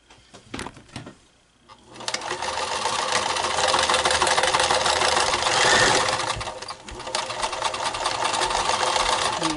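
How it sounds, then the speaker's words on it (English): A home sewing machine stitches a fabric face mask without elastic, starting after a few handling clicks into a steady, fast mechanical whirr, close and loud, dipping briefly before running on. "I'm going to sew between here, and then I'm going to sew down on the sides."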